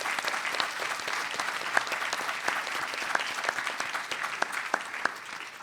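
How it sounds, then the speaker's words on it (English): A conference audience applauds the panelists at the close of a global health plenary session, a dense, sustained burst of clapping from a large crowd. "Let's give a round of applause to our panelists."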